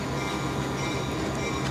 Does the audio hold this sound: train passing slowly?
yes